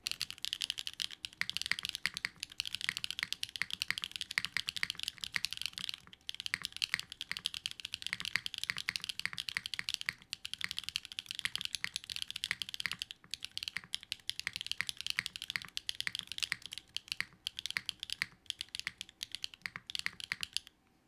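Clacky mechanical computer keyboard typed continuously and at close range, with dense, rapid keystrokes. Brief pauses break the rhythm now and then, and no voice is heard.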